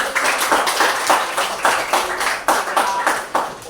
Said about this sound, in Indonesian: Sebelumnya kita kasih tepuk tangan kepada kelompok 1 dulu